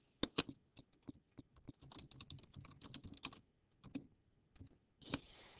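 Fingers type on a computer keyboard in quick, close, quiet bursts of key clicks with short pauses between, ending with a single firmer keystroke.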